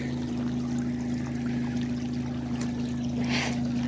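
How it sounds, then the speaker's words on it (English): A small wilderness creek runs beside a campsite in Idaho, giving a steady, even rush and trickle of flowing water that holds at a constant level throughout, with no voices over it. "Have a nice little creek."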